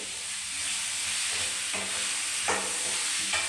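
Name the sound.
stirring chicken fry in a pan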